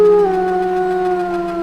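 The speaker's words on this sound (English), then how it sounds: "we hear a howl." A single long, loud howl like a dog or wolf, a steady wavering tone that dips slightly in pitch and sustains alone for under two seconds.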